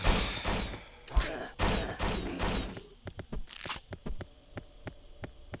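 Enemy gunfire in Hunter: The Reckoning comes as rapid clusters of sharp, loud shots, dense at first and then thinning into scattered single cracks, with no talk over it.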